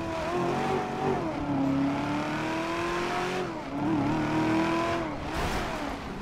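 A car driven recklessly in GTA V, its engine revving and droning steadily with shifting pitch for several seconds, close and loud with no talk.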